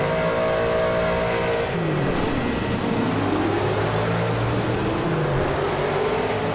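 Race car engines roar together at the start of a Project Cars race at Silverstone, with a rising and falling whine from several cars and a touch of wheel spin, loud and continuous with no talk.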